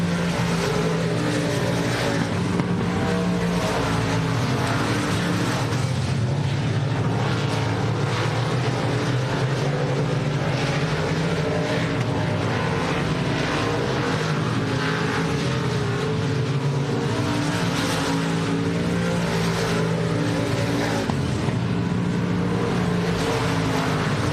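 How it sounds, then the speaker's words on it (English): Race car engines in a dirt-track heat race at Texana Raceway Park give a steady, loud, unbroken roar for the whole stretch, with layered motor tones that rise and fall as the cars circle. "Tanner Whitmire looking pretty easy out there right now as the 12 of Corey Babbitt got nothing for him in this heat race"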